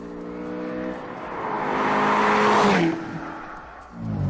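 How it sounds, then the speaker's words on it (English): Ferrari California sports car (2009–2017 model) engine bellowing under full throttle, a loud close roar building for about two seconds, then easing off before picking up again. "the California duly delivers the full surround sound bellow when you let rip"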